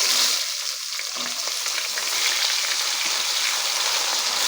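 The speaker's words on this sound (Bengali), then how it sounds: "এবার আমরা পেঁয়াজটাকে লাল লাল করে ভেজে নেব" Onions frying in hot oil with dried chili, cumin and a cinnamon stick for a restaurant-style chicken curry: a loud, continuous hissing sizzle, close up and unbroken, with no talking.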